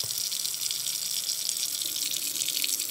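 A plugged sink fills from a running tap, a steady close gush of water pouring without pause and with no voices.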